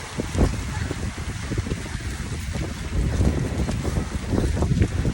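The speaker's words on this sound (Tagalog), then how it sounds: "Hangin, grabe." Strong wind in France roars and buffets steadily, rumbling loudly and continuously as gusts swell in the second half.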